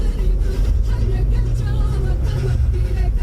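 A steady, low engine rumble and road noise heard from inside a car driving up toward Mount Nemrut in Adıyaman, loud and continuous under faint voices.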